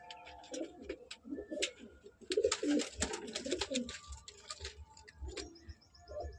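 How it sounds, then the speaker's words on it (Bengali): Paired breeder pigeons coo steadily inside a loft, several close, throaty calls rolling over one another with light chirps and scratchy movement. "দাদার কিছু ধাড়ি পায়রা জোড়া বসানো আছে"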